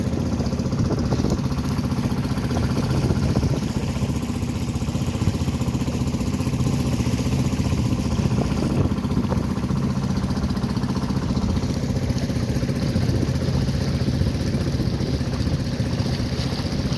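A boat's engine runs steadily near a shipyard, a continuous low droning rumble with a constant loudness throughout and no voices over it.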